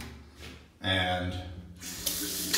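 Cold water running hard from a tap in a doomsday prepper's underground bunker, a broad steady gush starting abruptly, then softening into a hissy flow with voices talking over parts of it.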